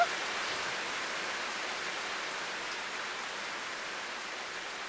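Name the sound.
rain falling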